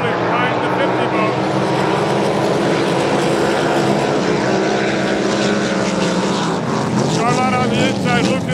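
Racing powerboat engines roar at the start of a race in Long Beach, a loud continuous throaty drone with wind buffeting, while a voice speaks over it.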